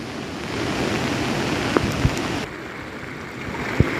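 Heavy monsoon rain pours in Konkan beside a swollen, fast-flowing river, a steady loud broadband hiss with a few sharp taps and knocks standing out.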